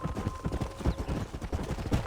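Horse galloping in the Red Dead Redemption video game: a steady, rapid clip-clop of hooves runs throughout at close range, with faint ambient rumble underneath and no talk.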